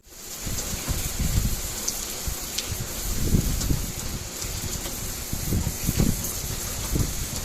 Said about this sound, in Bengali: বাইরে তখনও কন্টিনিউয়াস বৃষ্টি পড়েই যাচ্ছে